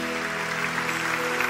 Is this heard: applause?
yes